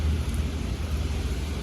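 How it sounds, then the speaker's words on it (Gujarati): Steady rain falls with a low, deep rumble of thunder beneath it, a dense wash of noise heard outdoors on a rainy road trip, no voices present. "પાછું આ વરસાદે હેરાનગતિ ચાલુ કરી દઉં"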